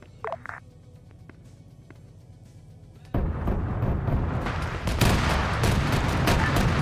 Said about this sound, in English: Autocannon fire 30 mil from the south, probably about 500 meters outside my guys.